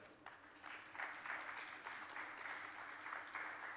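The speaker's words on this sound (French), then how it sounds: "Joignez-vous à moi pour applaudir notre panel." An audience applauds a panel at a bilingual French-English conference on AI, private equity and venture capital, the clapping steady and moderately distant, starting softly and swelling into a sustained, even round of applause with no talking.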